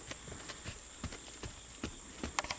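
A nervous horse shifting restlessly under its rider, hooves clopping irregularly on the ground in scattered close taps, with a steady high hiss in the background.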